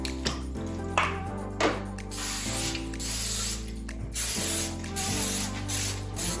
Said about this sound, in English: I have some cooking spray right there to spray your pans.